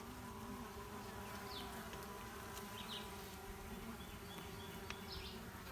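Bees buzz around brand-new, fresh comb in a newly occupied hive, a dense continuous drone with occasional individual bees zipping past up close, all fairly quiet and with no talking.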